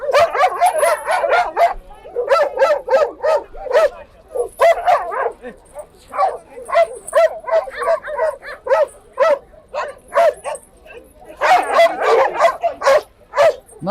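West Siberian Laika hunting dogs at a breed show bark repeatedly in rapid overlapping bursts, with yips and whimpers, loud and close, continuing almost without pause throughout.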